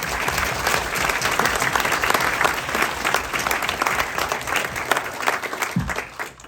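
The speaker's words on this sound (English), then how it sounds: "Let's give John an applause." Sustained applause from mourners at a memorial service, dense steady clapping filling the room for about six seconds before tapering off near the end, with no voices rising above it.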